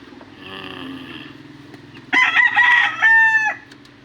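A rooster crows loudly nearby in a backyard in a long, two-part call, following softer clucking and faint background noise.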